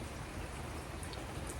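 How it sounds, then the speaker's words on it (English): Rain falls steadily on a gazebo roof as a dense, even patter, close and moderately soft, with no talking. "It's raining"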